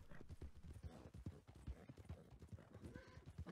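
Horse hooves gallop in a rapid, steady clip-clop rhythm in a video game, loud and close, with a faint whinny and some voices underneath.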